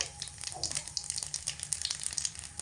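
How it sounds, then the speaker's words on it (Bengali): Whole cumin and black cumin seeds sizzle in hot oil as a tempering for a vegetarian soybean dish, giving a steady close crackling hiss with small popping bursts and no talk over it. "গরম তেলের মধ্যে ফোড়নে দিয়ে দেব এক চিমটে গোটা জিরে হাফ চামচ মতো কালো জিরে"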